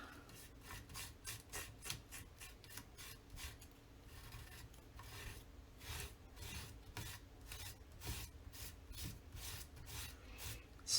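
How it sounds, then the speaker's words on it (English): Tool scraping excess thick white gesso across a surface while making scrapbook kit cards, a fast run of rhythmic rasping strokes, close and soft, with no voices. "Scrape off the excess."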